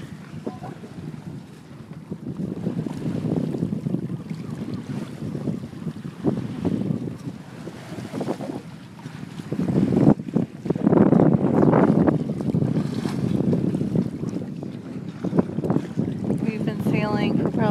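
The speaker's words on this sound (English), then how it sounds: "We've been sailing for probably about an hour and a half or so. We got great wind." Strong wind buffets the microphone aboard a sailboat under sail, a loud continuous roar with gusts swelling and easing, water washing faintly beneath and voices heard briefly.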